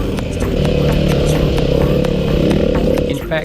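A trials rider's dirt bike putters along at low revs with a steady, close engine drone, punctuated by regular clattering knocks.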